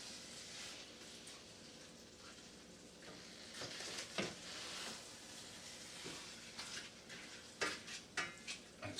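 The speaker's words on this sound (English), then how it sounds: "Now I'm just gonna kind of stir it around." Jambalaya being stirred in a pot, a spoon scraping and clinking against the metal with soft sizzling underneath, the scrapes growing louder and more frequent toward the end.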